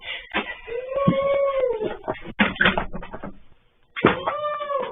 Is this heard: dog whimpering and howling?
yes